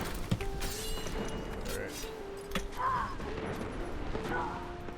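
Weapon fire from a Strand Warlock build in Destiny 2: repeated sharp, punchy game gunfire bursts over a dense, busy mix of effects, with a player talking in between.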